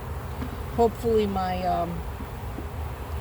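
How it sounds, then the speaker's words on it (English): Worker honey bees buzz around the entrance of a newly moved nuc hive, a close steady drone with passing wingbeat tones, while a person speaks briefly over it. "worker bees will figure out to come in here because they're kind of like flying around the front of the hive now"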